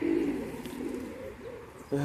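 Pigeons coo in a loft housing a first clutch of young birds, a low steady murmur of calls running throughout, close and moderately loud, with a sharper burst near the end.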